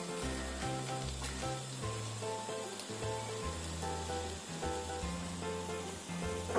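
Fish egg fritters dropped one at a time into masala frying in a pan, giving a continuous close sizzle and spatter over steady background music.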